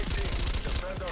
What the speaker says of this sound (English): and this is the MP5